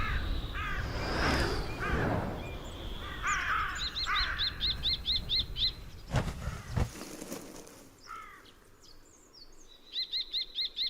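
A carrion crow caws in repeated harsh bursts near its cliff nest, loud and close at first, then a steady series of shorter calls alongside other bird chirps, with a brief rumble of wind or movement midway.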